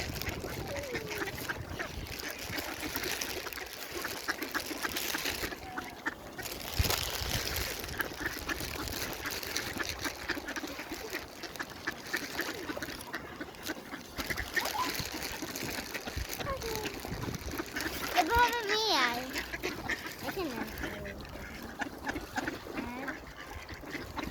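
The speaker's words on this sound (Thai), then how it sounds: "อันนี้เป็นเป็ดธรรมชาติ" Natural ducks gather at the waterside near a hospital, their quacks mixed into a busy outdoor scene with people talking and background noise throughout.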